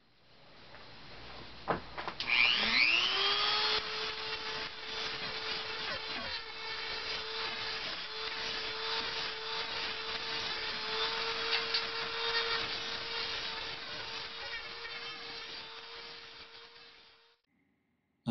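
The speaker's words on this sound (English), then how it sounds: "now I'm just using the Dremel to kind of shape it out here" A Dremel rotary tool shapes foam on a sword cane handle, spinning up after about two seconds into a steady, loud, high whine that holds evenly for roughly fifteen seconds before cutting off.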